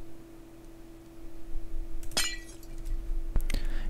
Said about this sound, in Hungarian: ha összetörjük a vázát és elveszítjük a tárgyat